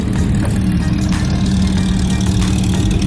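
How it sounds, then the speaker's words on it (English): A loud Porsche engine idles close by among other exotic cars at a car rally meet, giving a steady, deep rumble that stays continuous and heavy throughout. "This Porsche though, this is crazy loud, guys."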